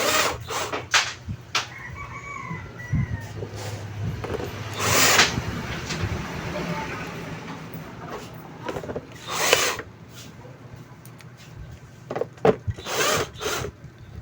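A power screwdriver drives screws into parts of a Homefun steamer in several short bursts of whirring, some longer and louder, with quiet handling noises and pauses between them, close by.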